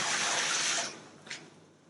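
Hiss of water poured off boiled potatoes, a brief gushing splash that fades after about a second, followed by a short faint spatter, close and alone.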